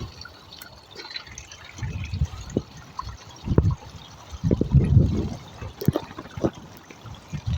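Rainwater trickles and drips unevenly beside a road under construction, with gentle splashing bursts that swell and fade, close by and fairly soft.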